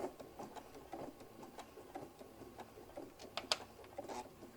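A sewing machine softly stitches forward and then back over a hobo bag seam, its rapid patter of needle ticks running continuously with small clicks. Quiet and close, with no voices.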